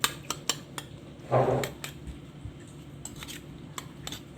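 A utensil stirring sambal tempe with salt and shallots in a frying pan, a series of light metallic scrapes and clinks with one louder scraping swirl, close and alone.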